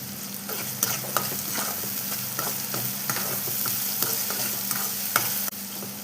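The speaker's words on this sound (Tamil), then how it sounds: "கருவேப்பிலை போடுறோம்மா" Curry leaves sizzling in hot oil in a pan for a vegetarian fish-style kuzhambu, a steady loud frying hiss with scattered pops and stirring scrapes, close and continuous, no talk over it.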